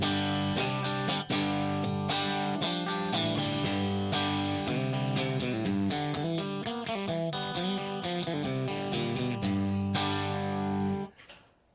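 Electric guitar through an amp on a loud clean channel, sustained strummed chords ringing fully and steadily for about eleven seconds before cutting off at the end, with no talking.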